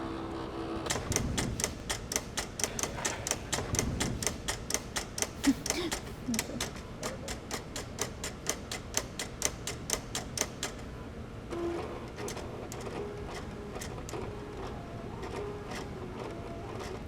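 Vinyl cutter working a job on its mat makes rapid rhythmic ticking and clattering bursts, steady runs of sharp clicks broken by brief pauses, fairly faint and close.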